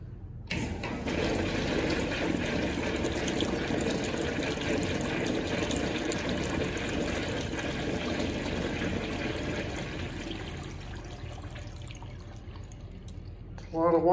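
Water runs hard and steady in a vintage office-building bathroom in upstate New York, fitted with old Abingdon urinals; a loud, continuous rush fills the space for about thirteen seconds and eases slightly near the end.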